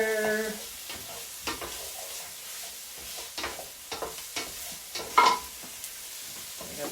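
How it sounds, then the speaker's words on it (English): Butter melting and sizzling in a pan turned up to high heat while cooking a Chinese dinner, a steady soft frying hiss with scattered crackles and a few sharper pops near the middle, heard alone without talk. "I'm going to get that butter in there melting"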